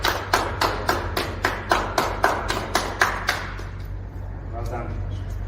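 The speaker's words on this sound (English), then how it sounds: "Please clap." Audience applause at the grand opening of an ISO-accredited WEEE recycling facility: a burst of rhythmic, steady clapping from a small crowd that fades out after about four seconds, leaving room noise with a low hum beneath.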